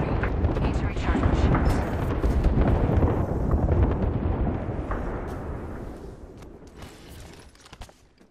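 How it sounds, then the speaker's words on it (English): Airstrike explosions in Apex Legends rumble as a heavy, continuous roar of blasts and debris that swells and then slowly fades, with scattered sharper bangs near the end. "Yo, we got an airstrike coming down."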